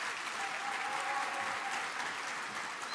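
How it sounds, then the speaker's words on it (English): Audience applause at a technology summit in Grand Bahama, a continuous even patter of many hands from a crowded hall, moderately distant. "So please give her one last round of applause."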